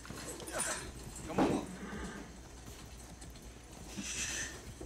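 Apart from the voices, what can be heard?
horse clip-clopping, from a video game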